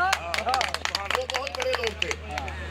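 Audience clapping at a live performance held on the death anniversary of Ustad Santu Khan: quick, uneven claps run all the way through under loud, close speech.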